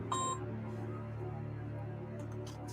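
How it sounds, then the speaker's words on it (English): A phone notification beep rings out as a short, bright tone near the start, then fades over a steady background hum. No one speaks over it. "Sorry, my phone went."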